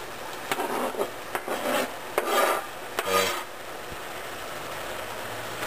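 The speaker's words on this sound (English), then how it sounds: "So we've got the sausage and the green peppers going in now." Sausage and green peppers tumble into a pan of smoked cabbage, giving a few soft scraping, rustling clunks close by. The pan holds no talk.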